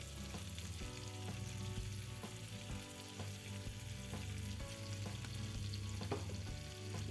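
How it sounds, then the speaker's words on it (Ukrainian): Cheese dumplings sizzle and crackle steadily in a hot pan, a constant frying hiss with occasional bubbling pops, close up and without talk. "Повторюю, смажимо 5-7 хвилин."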